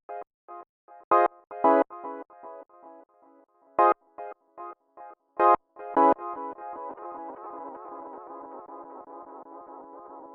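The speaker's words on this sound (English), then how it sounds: "Nice, and the echo." A Cherry Audio MemoryMode synthesizer plays short, staccato plucked notes in an irregular pattern, then an echo effect takes over and the repeats blur into a sustained, shimmering wash of repeated tones.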